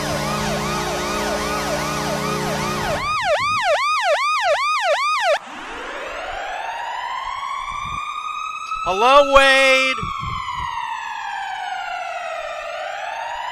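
Several electronic siren patterns play in sequence on a podcast stream: fast wailing warbles, then rising and falling sweeps, loud and close, with a brief voice speaking near the end.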